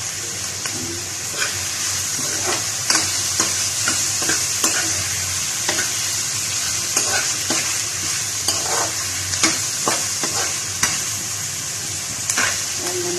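Black pepper and bay leaves toasting in a pan for chicken menudo, with steady close sizzling and frying crackle plus repeated sharp clinks of a utensil stirring against the pan.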